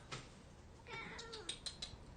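A part-Siamese cat meows in a drawn-out, rising and falling call, followed by a few short chirpy bursts, faint and fairly close in a quiet room with no talk.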